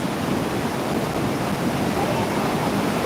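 A strong river current rushes while people wade across it, heard as a loud, steady broadband roar of moving water with no pauses or distinct splashes.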